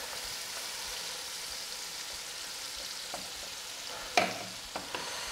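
Masala is added to a frying pan and stirred, a soft steady sizzle with a few scraping clatters near the end and no talk.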